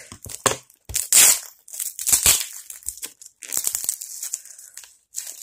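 Plastic wrap and tied packaging on a deluxe edition album box crinkle and tear in a string of sharp, uneven bursts with short pauses between them, close up and with no talking.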